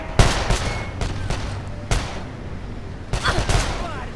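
Bursts of gunfire in the video game Call of Juarez: The Cartel, with sharp, irregular shots and short volleys over a noisy, rumbling background.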